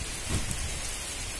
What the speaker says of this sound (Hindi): दोस्तों देख सकते हो कितना तगड़ा बारिश हो रहा है हमारे यहाँ।